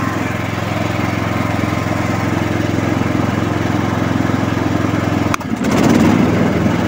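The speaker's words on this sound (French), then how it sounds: "Là, je viens d'engager la lame et maintenant je vais faire remonter mes régimes à fond." CastelGarden XD 150 HD ride-on lawn mower engine running steadily close by, then a brief clunk as the cutting blade engages and the engine note rises and roughens under load.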